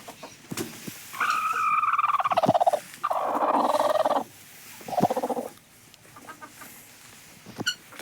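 A hen clucks and squawks loudly in several drawn-out bursts close by, with pauses of quieter rustling between calls.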